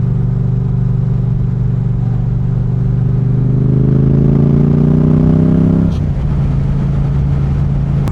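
Yamaha R7 motorcycle ridden on the way to the beach, a steady engine drone that rises in pitch as it accelerates, then drops suddenly as the rider shifts or backs off, with constant wind noise.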